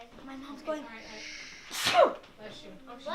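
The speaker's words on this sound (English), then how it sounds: "a sneeze." A single sharp human sneeze bursts out in the middle of a lively family gathering at a Christmas talent show, loud and close, with people chatting around it before and after.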